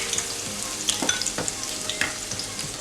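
Garlic sizzles in hot coconut oil in a pot, a steady close crackle with small pops and occasional stirring scrapes.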